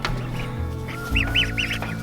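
Ducklings in a chicken tractor give a run of high, repeated peeping calls over a steady low background, several short chirps close together near the end.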